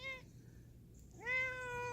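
A cat gives two clear meows close by, a short one at the start and a longer rising one after a brief pause, set against quiet indoor background hum.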